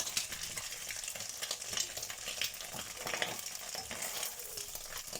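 Egg frying in a pan while fried rice is being made, a steady close sizzle with scraping and stirring clatter running throughout, no voices.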